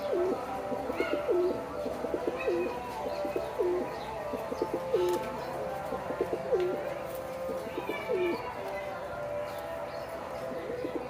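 Male pigeon cooing repeatedly in a loft at morning pairing with hens, a steady run of rolling low coos close by, alongside faint chirps and background rustle.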